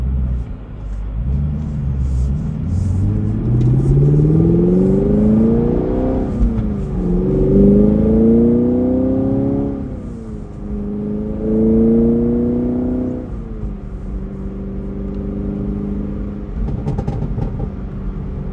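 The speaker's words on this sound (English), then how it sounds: "And the stock exhaust, I mean, you gotta love the crackles and the pops." On a 2023 Chevrolet Camaro 2SS 1LE, the stock exhaust booms as the engine revs up and falls back several times in a row. The deep rumble is loud and close, with no talking.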